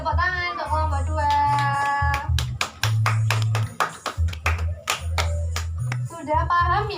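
A class of fourth-grade primary pupils claps for group 2 in quick rhythmic bursts, sharp hand strikes mixed with chanted or sung voices and pausing briefly between phrases.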